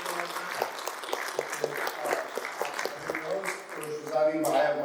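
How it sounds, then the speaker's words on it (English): Audience applause for a guest at a San Diego Comic-Con 2025 panel, steady clapping filling the room with scattered distinct claps, swelling louder toward the end as a few voices chatter underneath. "How about a round of applause for our fantastic guest?"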